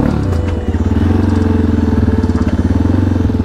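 A dirt bike's engine throbs loud and close with a fast, even pulsing beat, running steadily on a dirt track.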